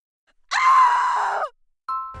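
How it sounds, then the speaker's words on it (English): A drawn-out, strained scream from a voice in the Obey Me! fandub rings out for about a second, loud and close, followed after a short pause by a brief high tonal sound. "Just heard a terrible scream at the Demon Lord's castle"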